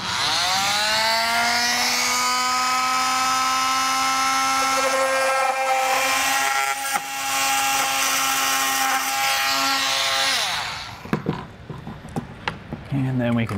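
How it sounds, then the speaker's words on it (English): A power tool cutting a stereo mounting hole in the wall of a 2007 Forest River Flagstaff Super Lite travel trailer, a loud sustained whine for about ten seconds that winds down, followed by scattered knocks and clatter. "I'm gonna go ahead and start cutting out this hole."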